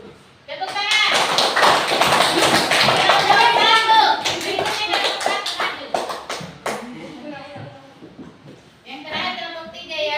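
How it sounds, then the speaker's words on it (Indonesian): A class group, apparently children, claps hands together in a loud burst lasting several seconds, sharp and somewhat ragged, then tapers off into scattered claps and chatter, with voices talking and calling out throughout. "Tepuk tangan."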